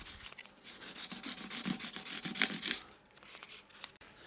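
A file rasping along the fret edges of an Eastcoast MT1 electric guitar, a quiet series of short rhythmic strokes heard up close that trail off near the end.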